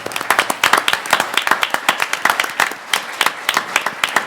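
At a school board of education meeting, a room applauds school staff with loud, fast, close clapping from a modest group, individual claps clearly audible throughout.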